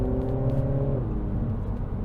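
A 2024 Mini Cooper S Hardtop three-door hot hatch being driven, heard from inside as a steady engine drone with a pitch that shifts partway through over continuous road rumble, with no talking.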